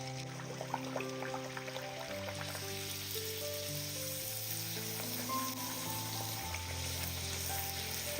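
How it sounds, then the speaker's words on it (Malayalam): Puris deep-frying in hot oil, a soft continuous bubbling sizzle with faint occasional clinks, fairly quiet and steady without speech. "ഇനി നമുക്ക് ചൂടായി കിടക്കുന്ന എണ്ണയിലേക്ക് ഓരോന്നായിട്ടിട്ട് ഫ്രൈ ചെയ്തെടുക്കാം"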